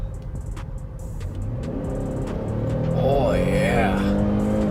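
A Chevrolet Traverse SUV accelerates hard, its engine rising steadily in pitch and loudness from inside the cabin, with a brief spoken exclamation over it.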